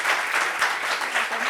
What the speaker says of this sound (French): Déjà applaudissements pour la magnifique tenue rouge quand même.